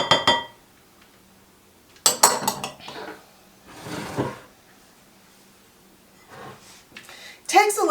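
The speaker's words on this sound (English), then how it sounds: "take a fork and mix them together" A fork clinks and scrapes in a dish while mixing peanut butter, whole milk and oat flour, in short bursts of clatter separated by quieter stretches, with speech partly overlapping.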